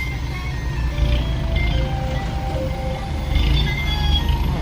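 A Hino Dominator 500 dump truck's tinny musical melody plays over the steady rumble of its idling engine, with scattered chimes standing out against the noise.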